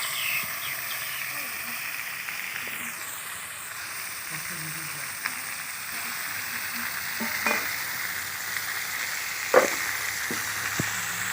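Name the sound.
spiced tangra fish frying in a wok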